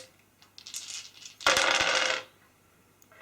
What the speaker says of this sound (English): Once you've rolled your dice